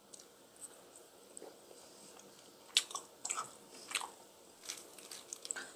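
Someone eats a lettuce wrap with rice, meat and snail ssamjang, close to the mic, with soft crisp bites and intermittent wet chewing and crunching at a quiet level, no talking.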